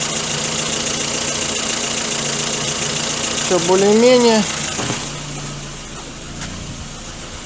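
A Lada Kalina engine with a burnt exhaust valve idles steadily with a low uneven rumble, while someone speaks briefly over it.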